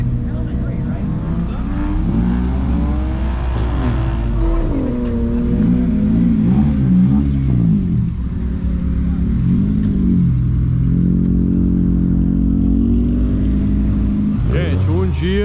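An Ariel Atom 3 race car drives a race track, its engine loud and rising and falling through gear changes, heard from the passenger seat while someone talks over it.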